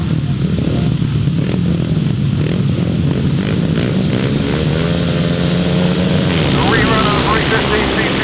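Grasstrack racing motorcycles at the 2005 Vic Hiscock Memorial roar off the start of race 55, loud engines rising in pitch under an announcer's voice throughout.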